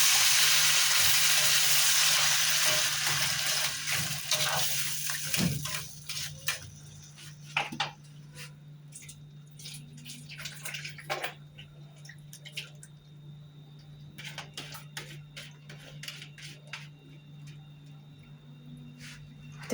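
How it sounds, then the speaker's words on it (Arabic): Water pours into a cooking pot of blended, strained tomato stew, loud and splashing at first, then fading into scattered drips, ticks and soft sizzling. "احط لها شويه الميه دول"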